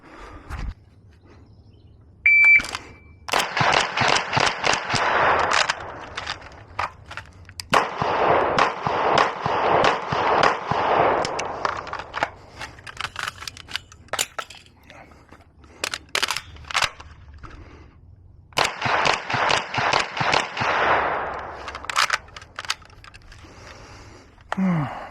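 Rapid strings of rifle and pistol shots crack at an outdoor shooting range, close and loud, in several bursts separated by brief pauses, with metallic clinks and faint voices between volleys.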